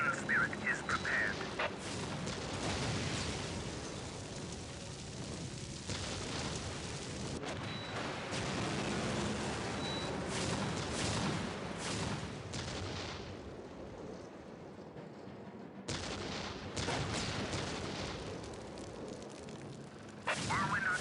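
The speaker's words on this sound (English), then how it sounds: "Whirlwind artillery tank here." A Whirlwind artillery tank fires in the Warhammer 40k Dawn of War video game. Repeated booming volleys roll and crackle over a continuous battle din, with voices speaking at times.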